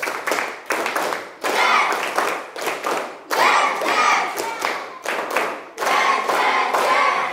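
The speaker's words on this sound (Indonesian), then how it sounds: "Fokus, kita persiapan 3 kali tepuk 5." A school class claps hands together in rhythmic groups, sharp bursts of many hands repeating in sets with brief gaps between, loud and close in a classroom.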